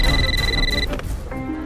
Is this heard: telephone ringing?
yes